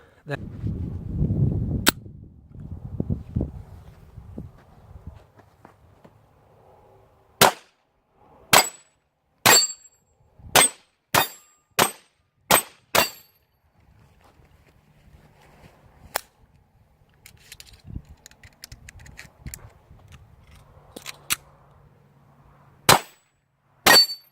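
A surplus Bulgarian Makarov 9x18mm pistol fires at a shooting range, about a dozen sharp, loud single reports in an uneven series, some in quick succession, with quiet handling noise and breezy rumble between shots.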